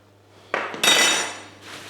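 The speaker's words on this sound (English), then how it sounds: "Now we're going to drain all those juices into the pan." A pan is handled with a metallic clank, then meat juices pour into it in a brief rushing splash that tapers off, close and without talk.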